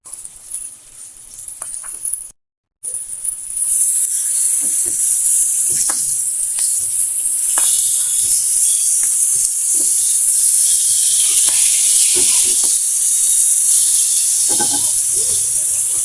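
Bangus milkfish steaks frying in hot oil, a loud, continuous hissing sizzle with scattered pops and spatters, briefly cut off near the start and then steady throughout.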